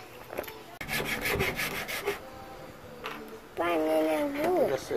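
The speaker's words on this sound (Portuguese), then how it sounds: "vai dar uma lixada aqui que tá meio feio" A homemade fingerboard handrail is sanded by hand with short, scratchy back-and-forth rubbing strokes, near and moderately loud. Voices talk in between, and a voice rises toward the end.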